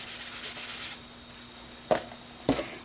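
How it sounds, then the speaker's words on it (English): An embossing buddy is rubbed over star paper while a wedding card is being made. Close, steady rubbing strokes are followed by two brief sharper taps, with no voices. "we're going to use the embossing buddy for up here in the corner"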